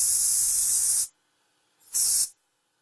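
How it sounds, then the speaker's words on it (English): Compressed air duster sprays onto a 3D print in two bursts, a loud hiss lasting about a second, a short pause, then a shorter second blast, close and alone. "I just spray it."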